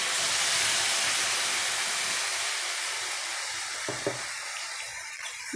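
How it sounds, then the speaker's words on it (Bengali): Water poured into a pan of taro stolon and prawn curry, a steady hissing rush that fades, followed by a few small clinks and stirring sounds, no talk. "এবার আমি এর মধ্যে দিয়ে দেবো পরিমাণ মতো জল, খুব সামান্যই জল দেবো"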